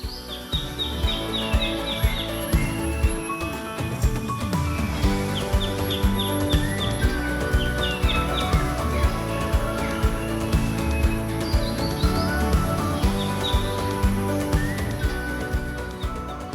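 Birds chirp and call repeatedly in the bird section of a park in Ninh Binh, Vietnam, several bright calls overlapping against a steady background of music and ambient activity.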